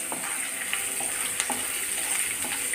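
Green and red chillies sauté in hot oil in a pan, giving a steady close sizzle with occasional stirring scrapes and spatters, no voices.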